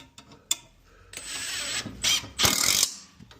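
Screws driven into an electrical box by a power driver, giving close mechanical whirring and ratcheting bursts that rise and stop, with a couple of sharp clicks.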